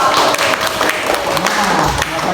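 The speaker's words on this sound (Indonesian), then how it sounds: "aplaus untuk kita semua" An audience of schoolchildren and adults claps together in a room, a brief dense patter of applause that holds steady and fairly close, with a voice briefly audible beneath it.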